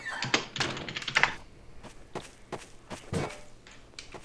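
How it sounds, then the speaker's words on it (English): Footsteps in Garry's Mod prop hunt on the office map: a run of soft, irregular thuds and knocks, loud and close at first, then sparser, fainter steps spread over a few seconds with no talking. "I heard footsteps."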